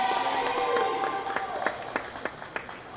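Spectators at a girls' high school charter basketball state semifinal applaud for the Legacy Titans during player introductions. Scattered claps and crowd noise rise under an announcer's voice in a large gym.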